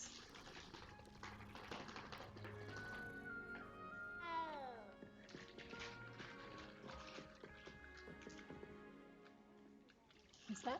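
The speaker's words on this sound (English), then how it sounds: "What is up with the cats?" Cats meow in Hogwarts Legacy, a drawn-out rising-and-falling meow standing out over game music, with other soft ambient game sounds around it.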